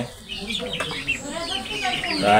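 Guinea fowl among puffed-up roosters at a poultry sale give repeated clucks and chattering calls close by, mixed with a background voice and rising in loudness toward the end.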